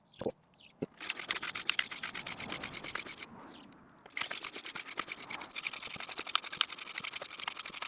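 A steel blade rubbed back and forth on a wet sharpening stone, a steady rapid rasping stroke rhythm, close and loud, broken by a short pause partway through.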